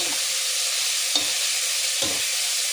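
Ginger garlic paste fries with onions in a hot pan, giving a steady broadband sizzle throughout, broken by about three short stirring scrapes, close and alone with no voices.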